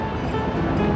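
A waterfall along a trail in Thailand produces a steady, close rush of falling water, a constant low roar mixed with wind noise on the microphone.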